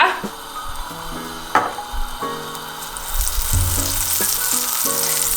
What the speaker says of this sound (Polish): Masło nam się ładnie rozpuszcza